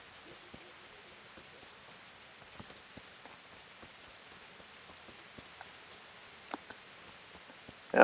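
Soft, steady rain falls in the medieval video game Kingdom Come: Deliverance, with faint scattered drop taps and a brief louder burst at the very end.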